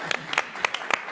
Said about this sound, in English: So, I think that deserves an applause